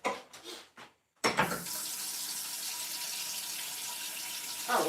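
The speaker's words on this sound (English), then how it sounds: "Let me rinse this cup out." A cup rinsed under a running kitchen tap: after a few brief clatters, a steady broadband gush of water pours continuously for several seconds, close and fairly loud, with no talking.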